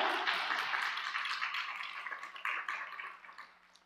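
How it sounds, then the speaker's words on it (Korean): A church congregation claps in thanks to God during a Korean sermon, dense applause from many hands that starts loud and gradually thins and fades toward the end. "여러분 이 시간에 감사의 박수, 영광으로 올려드리겠습니다"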